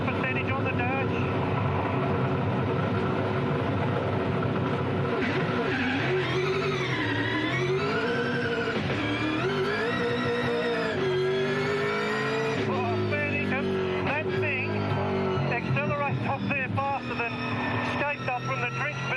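A V8 Supercar race car engine revs up loudly with rising and falling pitch, then launches and pulls away hard, the engine note filling the scene throughout with a commentator talking over it.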